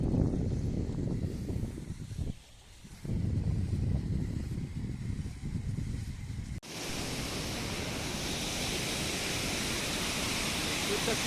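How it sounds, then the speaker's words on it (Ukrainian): A Carpathian mountain waterfall roars as a steady, dense wash of falling water, starting after some talk and walking noise and then continuing loud and unbroken to the end. "друзі, водоспад, дивіться."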